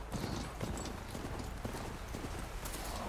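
Horse hooves clip-clopping steadily in the video game Horizon Forbidden West, a continuous rhythmic trot heard over game ambience with no talking.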